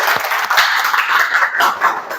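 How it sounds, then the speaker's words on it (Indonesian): An audience claps in a seminar room, a dense patter of many hands that stays fairly steady for a couple of seconds and then begins to thin. "Tepuk tangan dulu untuk Mbak Karina."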